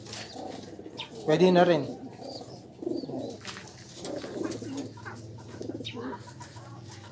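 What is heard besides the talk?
pigeon cooing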